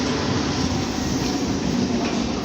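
A local passenger train in India near Prantik station rolls steadily along, producing a loud, continuous close rumble of wheels and carriages throughout.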